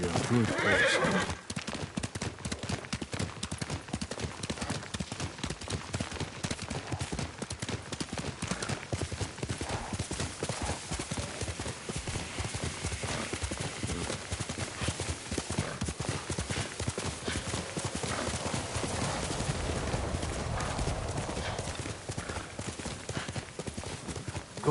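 Horse hooves clip-clopping with a neigh from a samurai video game, a whinny at the start followed by a continuous run of hoofbeats at a steady gallop, close and fairly loud throughout.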